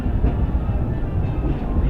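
Disneyland Railroad train running along its track toward New Orleans Square Station, a steady low rumble and rolling rail noise that holds at an even level throughout, with no talk over it.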